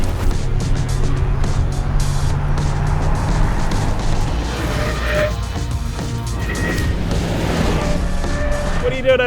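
A big family SUV driven hard as a rally car in New Zealand: continuous loud engine roar with gravel and road rumble, thumps and crashes throughout, steady and close with no pauses.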